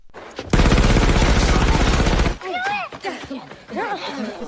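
A loud, dense burst of rapid gunfire rips for about two seconds in a war-film shootout between soldiers, then cuts off abruptly as a voice begins talking.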